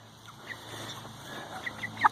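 Soft chicken clucks over a quiet outdoor background, with a few sharper, louder clucks near the end.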